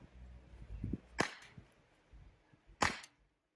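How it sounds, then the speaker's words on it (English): A CZ75 CO2 BB pistol fires: two sharp, close cracks about a second and a half apart, each preceded by faint handling clicks, in a quiet setting. "Take 3 shots to the middle with the CZ75."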